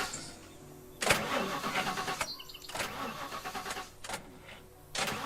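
A car engine in the zombie video game The Last Stand Aftermath cranks and sputters in several separate attempts, each a sharp burst followed by a rough mid-pitched churn, close and fairly loud.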